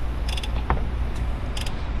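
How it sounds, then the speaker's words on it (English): A wrench turns the crankshaft of a 2010 Mazda 3 Turbo 2.3 engine that knocks and is full of metal, giving a few close, faint mechanical clicks and a brief creak over low background hum. "Okay, so I've got a wrench on the crankshaft right here."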